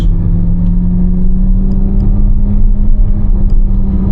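A Chevrolet Corvette C8 Z06 with the Z07 package on an early-morning drive: a steady, loud engine drone and low rumble heard from inside the cabin, with no talking.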